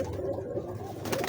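A Khalis Imam Din pigeon coos softly and close by, a low murmuring call that carries on steadily over faint background noise.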